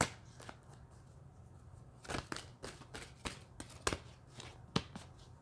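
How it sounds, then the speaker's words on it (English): Quiet riffling and snapping of a small deck of playing cards being shuffled quickly, a series of quick crisp bursts at close range with no talking. "I like my smaller deck for the quick shuffle"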